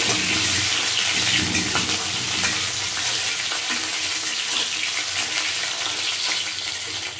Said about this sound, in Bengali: আমি উচ্ছেগুলো ভালো করে ভেজে নেব